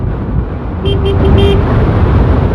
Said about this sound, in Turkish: al sana korna